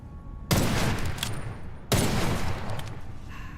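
Two heavy sniper rifle shots ring out in the first-person shooter Witchfire, each a sharp loud blast with a long rolling tail, spaced about a second and a half apart.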